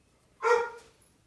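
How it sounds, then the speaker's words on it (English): A single dog bark rings out once, close and fairly loud, then fades over about a second in an otherwise quiet indoor space during a seed-starting session. "And that is my dog, Padfoot."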